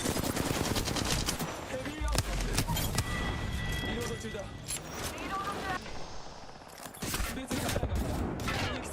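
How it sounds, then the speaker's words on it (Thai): Automatic gunfire in the Apex Legends video game, rapid bursts of shots hitting the player that run loud and dense through most of the stretch, with brief gaps, under and between lively speech. "คุณโดนยิงหลังทั้งหลอดเลย"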